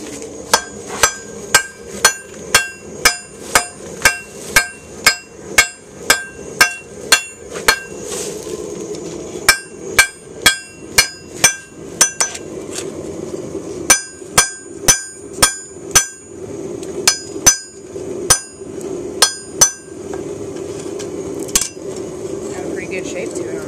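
A hot knife blade is hammered flat on an anvil, with a long run of sharp, ringing metallic strikes in a regular rhythm, broken by brief pauses and then resumed, close and loud, with a voice heard faintly at times.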